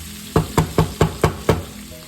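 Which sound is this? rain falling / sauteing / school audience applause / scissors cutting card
sauteing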